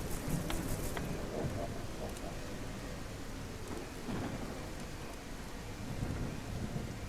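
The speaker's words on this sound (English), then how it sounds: "It's really starting to rain a lot." Steady rain falls in the video game Hawthorn, joined by rolling thunder, a continuous dense wash that holds loud and even for the whole stretch with no talking.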